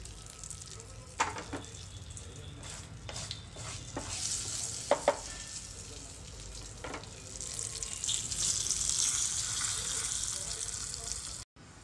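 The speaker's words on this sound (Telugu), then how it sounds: "ఇంకా ఆఫ్ చేసేసుకొని కలిపేసుకున్నాను." Tomato chutney with turmeric and curry leaves being stirred in a pan after the heat is switched off, with scraping strokes of the spoon and a soft lingering sizzle that swells toward the end.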